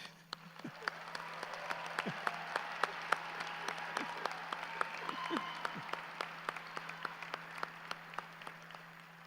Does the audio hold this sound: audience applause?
yes